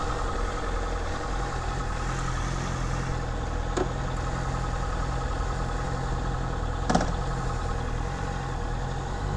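A stock-exhaust Honda CBR650F motorcycle engine drones steadily while riding, a continuous mid-pitched hum with wind noise and a couple of brief clicks, no voices.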